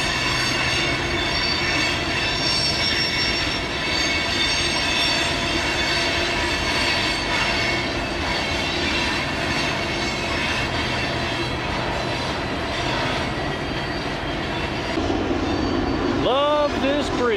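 BNSF freight train with a single rear distributed power locomotive climbing Mullan Pass west of Helena, Montana: a loud, steady close rumble of engines and rolling cars, with wheel squeal rising near the end and a voice speaking partway through.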